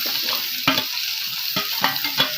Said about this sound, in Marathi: आता मी हा कांदा परत टाकत आहे यामध्ये आणि ही शिमला मिरची पण टाकत आहे